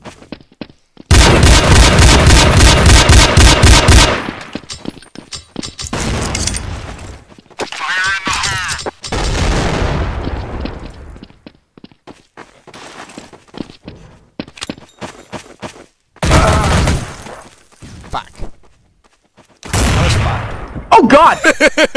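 Bursts of submachine gun fire in Counter-Strike: Source multiplayer, a long loud rapid volley early on followed by shorter separated bursts and footsteps, close and punchy, with scattered quieter gaps between.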